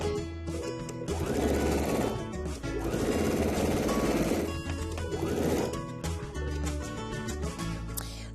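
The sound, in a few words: sewing machine stitching a notched collar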